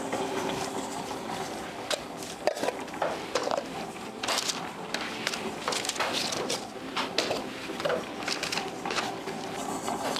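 A stand mixer runs at low speed through hazelnut and oat cookie dough, giving a steady mechanical whir broken by irregular knocks and clatters. It is close and fairly loud, with no talking.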